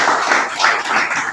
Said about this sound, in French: J'aimerais que les enseignants s'acclament d'abord eux-mêmes